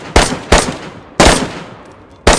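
Gunfire in the video game DayZ, four sharp, loud shots spaced irregularly, each ringing out briefly, with no talking.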